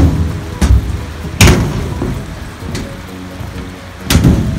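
Steady rain patters all around on sheet metal with several louder splashes and knocks breaking through, close and fairly loud, in Hatay, Turkey.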